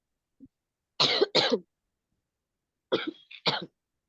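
A few sharp coughs in two short bursts during a class, close and fairly quiet, separated by a pause of silence.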